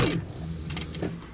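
A sewing machine stitching fabric panels for a small bag, a short faint mechanical whir with quick rhythmic clicks, heard alone and up close.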